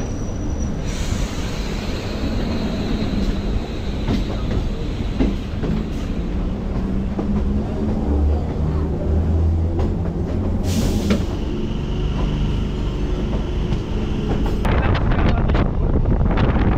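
The 31913 Sealdah to Gede local train runs along, giving a loud, continuous rumble with wind buffeting the microphone and occasional rattling clatter; no one speaks.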